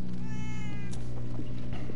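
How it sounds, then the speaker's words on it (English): A cat meows in the Minecraft Story Mode video game, a drawn-out tonal cry over a loud, dense bed of game music and ambience. "Where the fuck is this cat?"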